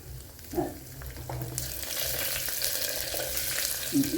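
Fenugreek seeds, cumin and three red chilies fry in hot oil for a tempering, with a few clinks at first and then a sizzle that swells and holds steady up close.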